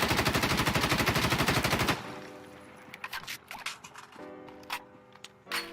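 An M4A1 rifle with no attachments fires a rapid full-auto burst in Insurgency: Sandstorm for about two seconds, dense and loud, then stops, followed by quieter clinks and shuffling handling sounds.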